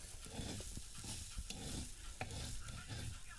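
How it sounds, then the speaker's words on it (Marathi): A wild leafy vegetable is stirred and sautéed in a pan, with a continuous sizzle of frying under repeated scraping stir strokes, close and steady. "आता आपण फक्त पाच मिनिट ह्या परतीत राहू गया आणि सुकलं की मग उतरू गया"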